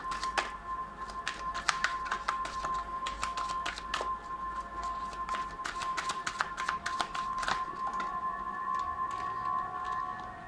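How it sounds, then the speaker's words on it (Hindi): Tarot cards spill and get shuffled for a pick-a-card reading, a rapid series of crisp close slaps and flicks scattered irregularly over a steady faint tonal hum, with no talking. "बहुत सारे कार्ड्स गिर गए गाइस"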